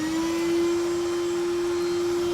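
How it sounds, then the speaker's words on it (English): The vacuum on a Skat blast cabinet runs with a steady, constant whine and airy rush, unchanging and close, with no other sounds. "Let's turn the vacuum on."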